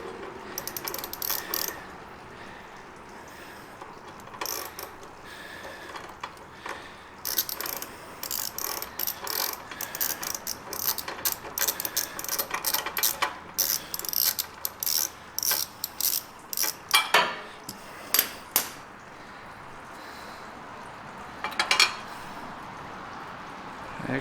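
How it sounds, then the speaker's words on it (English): A ratchet wrench removes a spark plug from a Gravely Pro Turn Z60 zero-turn mower, with repeated close clicking bursts of ratcheting strokes and short pauses between them. "I'm going to attempt to get this plug out with one hand"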